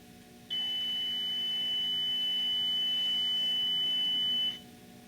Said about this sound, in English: the beeping, are the priming sound or the warning that the engine's about to start